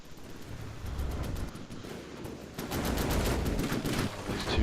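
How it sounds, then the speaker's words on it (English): Barrages of rapid autocannon fire and explosive missile hits in a video game battle, a dense, rumbling stream of crackling bursts and booms that grows louder and heavier midway, with no talking. "along with a barrage of hugely inaccurate autocannon fire"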